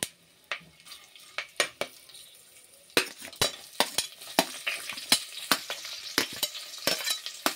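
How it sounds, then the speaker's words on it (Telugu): Green chilies and onions frying in oil inside a pressure cooker, a soft sizzle under repeated sharp clanks and scrapes of a spoon against the metal pot, close and rhythmic, no voices. "వేసేసి నెక్స్ట్ పచ్చిమిర్చి అండ్ ఆనియన్స్ వేసుకోవాలి."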